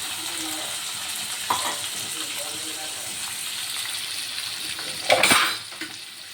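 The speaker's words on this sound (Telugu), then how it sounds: "తరిగి పెట్టుకుని ఉల్లిపాయలు వేసుకుంటున్నాను" Chopped onions and green chillies go into a pan of fenugreek seeds fried golden for a fenugreek curry. A steady soft frying hiss carries throughout, with a couple of brief utensil clinks and a louder burst of sizzle near the end.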